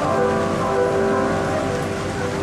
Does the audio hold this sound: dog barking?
no